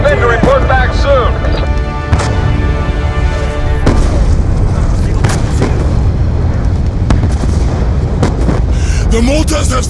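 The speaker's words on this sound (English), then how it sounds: "The mortars have stopped!" Loud, repeated mortar booms and explosions in a Black Ops 2 campaign battle rumble continuously, with sharp blasts at intervals. Shouted voices break in throughout.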